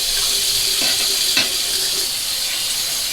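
A tap runs steadily into a sink while a razor is washed up, a constant hissing splash with a few faint knocks and clinks, and no talking.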